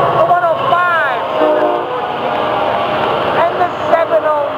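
An FEC freight train hauling auto racks rolls past with a steady rumble and squealing wheel tones, loud and close, while a person talks excitedly over it.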